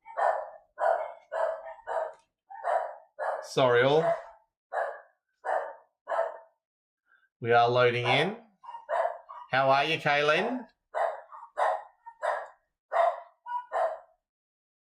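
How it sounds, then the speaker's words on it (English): A dog barks in short, evenly spaced bursts throughout, fairly close, while someone talks over it at intervals during a live GT3 sprint race stream. "My dog is not happy."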